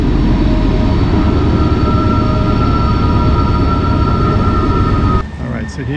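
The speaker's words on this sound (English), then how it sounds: "here you see the train entering the spiral tunnel, which is inside the mountain" A freight train rumbles into the Spiral Tunnels inside a mountain in Yoho National Park, British Columbia, a loud continuous low roar with a steady tonal whine that drops off abruptly near the end.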